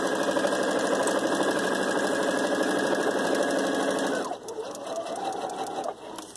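A sewing machine stitches a small stillborn baby's gown, running loud and steady in a fast mechanical rhythm for about four seconds, then slowing and stopping with lighter clicks.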